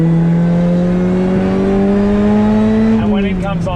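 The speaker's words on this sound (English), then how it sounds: "But I do have this upgraded Harrop supercharger." A Lotus with an upgraded Harrop supercharger pulls hard on a race track, its engine note rising steadily and loud from inside the car before an upshift near the end, with talk over it.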